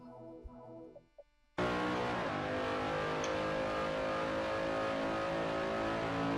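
A race car in a qualifying session for pole position bursts in loudly after a brief quiet start, its engine howling at sustained high revs, close and steady, with no talk over it.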